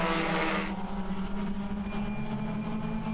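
A Suzuki Swift Cup race car at the Most circuit heads toward the final corner, its engine a steady, moderately distant drone with a rushy edge at the start.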